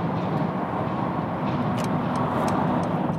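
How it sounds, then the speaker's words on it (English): Steady, loud road roar heard from inside a 2020 Mercedes GLE 450 as trucks pass fast on the road, a continuous broadband rush with no clear breaks. "Oh, those trucks are going quite fast here."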